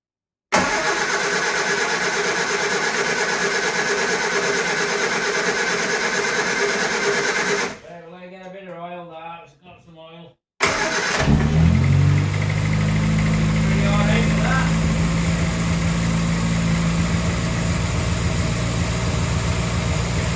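A Morris Minor engine cold-starts after a carburettor rebuild: it cranks briefly, fires and catches, then settles into a steady, loud idle with a low rumble; an engine drone runs before the start too.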